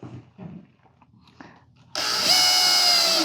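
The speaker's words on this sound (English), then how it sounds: "take a screw and insert it into your drill all the way in the back, and then you can actually chuck it up so the screw is right in your drill" Power drill spins up about two seconds in and runs a screw into a plug in the plugged glass trim of a ProVia entry door, a loud, close, steady whir after a few quiet handling clicks.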